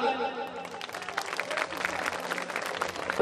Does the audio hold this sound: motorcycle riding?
no